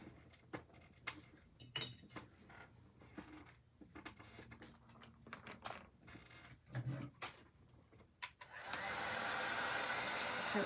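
Hair dryer drying acrylic paint, switching on near the end as a steady loud whooshing hiss, preceded by scattered clicks and handling knocks.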